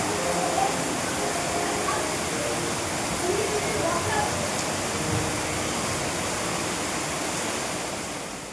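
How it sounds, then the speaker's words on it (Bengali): Rain falls steadily outside a home as a dense, continuous hiss that holds at an even, moderate level throughout, fading slightly at the end. "এই দেখো বৃষ্টি হচ্ছে বাইরে"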